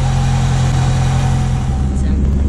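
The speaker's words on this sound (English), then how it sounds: "Got the exhaust going." Exhaust on a 1994 Honda Civic running steadily at idle with an aftermarket eBay exhaust, a continuous low rumble close by with a slight rise in revs near the end.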